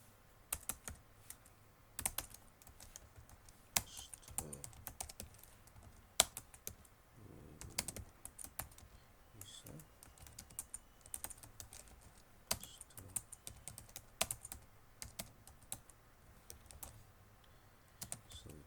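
Quick, uneven keystrokes and clicks on a computer keyboard, close and quiet, in short bursts with brief pauses and no voices.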